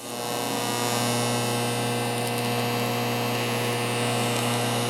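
Welding along the inside edge of a metal bar makes a steady electrical buzz that starts after a brief pause and holds at an even, loud level to the end.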